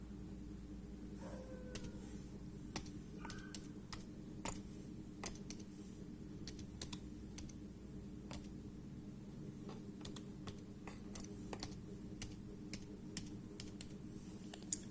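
Computer keyboard typing as text is entered into a presentation, a steady run of light, close clicks with irregular rhythm and occasional louder taps, over a low background hum with no talking.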